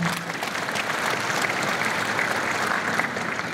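Audience applause at the closing address of a national health day event, a steady dense wash of many hands clapping, fairly loud and continuous throughout with no voices over it.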